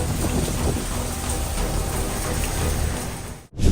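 Hailstorm pounding down in El Paso, Texas: a dense, continuous roar of hard impacts and rushing precipitation, loud and unbroken, cutting out abruptly near the end before resuming.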